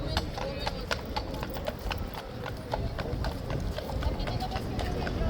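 Hooves of a police horse clip-clop on hard ground in a steady walking rhythm, sharp close knocks repeating throughout while people talk over them.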